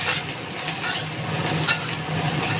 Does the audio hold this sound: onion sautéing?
yes